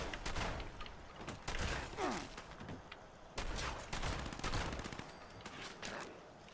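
Repeated shotgun blasts in the video game Fallout 76, sharp broadband bursts firing at an irregular pace over a low, busy game background, moderately loud with no speech.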